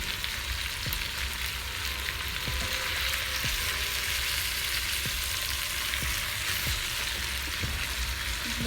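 A T-bone beef steak sizzles steadily in a pan with onions and peppers, a constant bright hiss with occasional faint pops and clicks of utensils.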